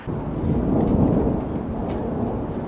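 A deep, sustained rumble of thunder rolls on for several seconds, loud and heavy, with faint rain in the background.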